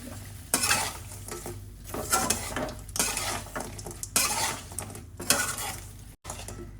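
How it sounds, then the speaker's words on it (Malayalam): Kerala-style anchovy pickle being stirred in a pot after vinegar is added, a series of repeated scraping, clattering strokes of a spoon against metal over a faint sizzle, close and without talk. "ഇനി നമ്മൾ ഒരു അറുപത് എം എൽ വിനാഗിരി കൂടി ചേർത്ത് കൊടുക്കാം ഇളക്കി കൊടുക്കുക"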